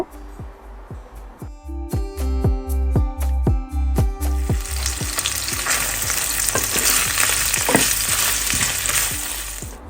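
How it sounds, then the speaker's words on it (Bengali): Oil in a wok for frying dried loitta fish. First comes a rapid series of loud metallic scrapes and clanks of stirring, then a dense, continuous sizzle fills the second half. "এখন কড়াইতে তেল দিলাম দিয়ে গরম করে নিব তারপরে লইটটা সুটকে একটু ভেজে নিব"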